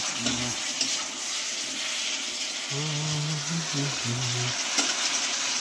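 Rohu fish curry sautéing in a pan, a steady broad sizzle throughout with a few brief low tonal scrapes and clinks from stirring, close and moderately loud, no voices.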